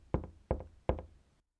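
A door of the grandmother's house in the Little Red Riding Hood tale is knocked on: three firm, evenly spaced knocks, each with a quick double rap, close and clear, then silence.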